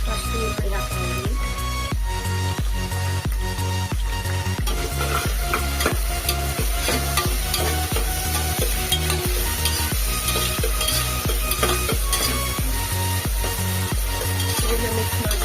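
Onion, tomato and green chilli fry in a pan for egg biryani, loud continuous sizzling under a fast, regular rhythm of spatula scrapes and taps against the pan, close and alone.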